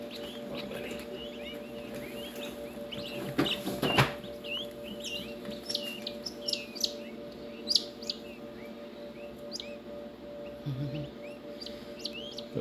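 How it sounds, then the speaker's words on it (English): Newly hatched mandarin ducklings peep in rapid, high chirps, scattered throughout over a steady mechanical hum, with a brief bump and rustle midway. "A couple of mandarins hatched out."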